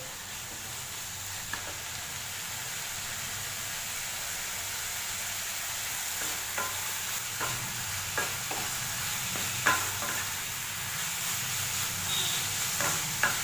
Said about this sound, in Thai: จะต้องแห้งเลยนะคะ ผัดไฟแรงๆ ไปเลย